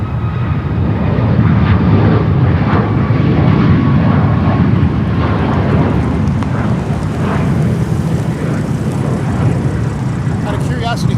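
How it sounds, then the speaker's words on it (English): A jet airliner takes off from Newark Liberty airport with a loud, steady engine roar that fills the whole stretch, mixed with wind buffeting on the microphone and faint radio chatter underneath. "Holy wow, this is a late takeoff."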